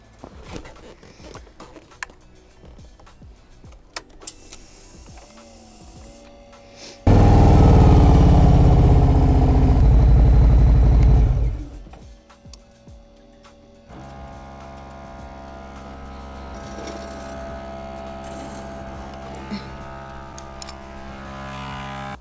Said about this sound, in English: I'm gonna pull the bikes up so you guys can see the rear tire